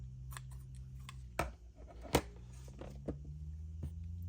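Scissors snipping through craft ribbon, three crisp, close cuts spaced apart over a quiet room hum.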